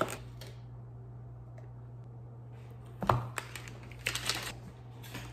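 Numbers are punched into a computer keyboard in short bursts of light, crisp key taps over a steady low background hum.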